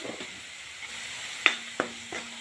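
A spoon stirs roasted masala in a hot pan for green garlic curry, giving a few soft scraping clinks over a faint, steady sizzle.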